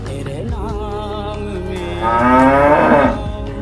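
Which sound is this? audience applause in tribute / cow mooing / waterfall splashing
cow mooing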